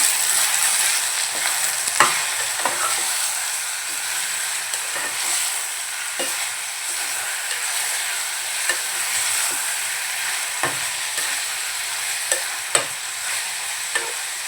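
Steady high sizzle of chicken coated with turmeric and salt frying in a pan, with repeated scraping clicks of a spatula stirring at irregular intervals, close by and continuous.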